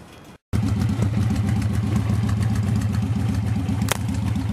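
A 2006 Victory Vegas Jackpot Cory Ness edition motorcycle with aftermarket pipes idles with a deep, steady, throbbing rumble after a brief silent gap at the start, loud and close throughout.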